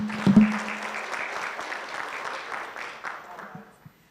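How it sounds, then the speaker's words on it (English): Audience applause for event organisers at a maternal and newborn health knowledge-sharing event, a sustained clapping wash that fades gradually over about four seconds, with a brief tonal sound near the start. "So let's also give them a round of applause."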